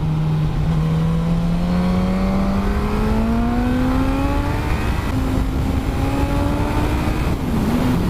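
A 2018 Suzuki GSX-S1000F sport-touring motorcycle pulls hard on light throttle, its engine note climbing steadily in pitch over several seconds with a brief dip near the end, loud and close with no talk.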